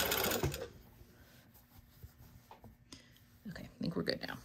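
A sewing machine stitching a T-shirt, with a loud whirring burst at the start and again toward the end, separated by quieter mechanical ticking, and some speech mixed in.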